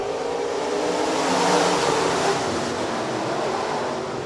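B-Modified race cars roar through a heat on the Rapid Speedway dirt oval, a continuous broad engine drone heard from a distance with a gentle swell and fade as the pack passes.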